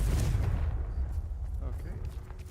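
A Confringo fire spell explodes in the Hogwarts Legacy video game as a deep, booming burst up front. It rumbles on and slowly fades over a couple of seconds.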